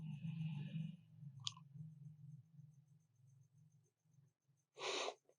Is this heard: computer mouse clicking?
yes